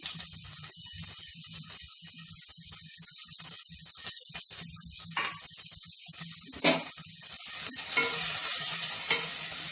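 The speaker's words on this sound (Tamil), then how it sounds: "லைட்டாக வெங்காயம் வதங்கின உடனே கருவேப்பிலை போட்டுக்கோங்க" Onions sautéing in a pan for chicken gravy, a bright close sizzle broken by repeated stirring scrapes, swelling louder near the end with no talking.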